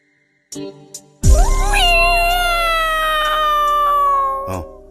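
A cat gives one long, loud, drawn-out meow up close, preceded by a few short faint sounds.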